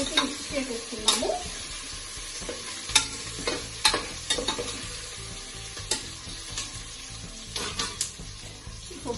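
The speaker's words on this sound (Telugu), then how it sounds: "ఇప్పుడు నేను స్టవ్ సిమ్ చేసి పెట్టుకున్నాను. అవి చిన్నగా వేగుతూ ఉంటాయి" Spinach biryani ingredients fry gently in a pan on a low simmering stove, a soft, continuous sizzle punctuated by sharp, irregular stirring clatters and scrapes.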